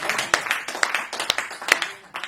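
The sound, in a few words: audience clapping to welcome poet Farooq Saral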